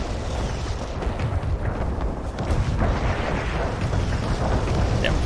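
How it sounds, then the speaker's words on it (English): Airstrike explosions in the video game Renegade X roll out as a dense, continuous barrage of deep rumbling blasts and crackling booms, loud and sustained with no break, swelling slightly toward the end. "Another airstrike on Nord."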